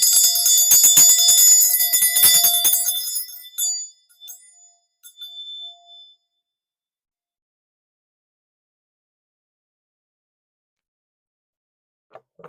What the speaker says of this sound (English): I'm about to ring this bell.